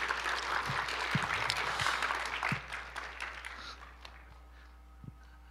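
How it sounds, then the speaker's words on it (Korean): An audience in a church gathering applauds after a lecture, the clapping fairly loud at first and then thinning out and fading over a few seconds. "우리 귀한 강의해 주신 박사님께 다시 한번 박수로 감사하겠습니다."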